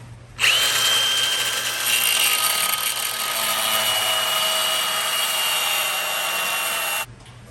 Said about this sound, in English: You just need to score them a little bit with a cutoff wheel.